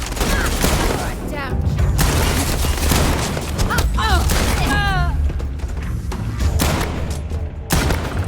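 Heavy gunfire crashes through a chaotic sci-fi firefight in Starfield, with dense bursts and booming shots stacking up almost continuously while people shout and talk over the battle.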